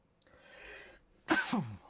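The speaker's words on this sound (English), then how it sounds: "Big sneeze." A single loud sneeze bursts out after a brief quiet breath-like intake, close and sharp.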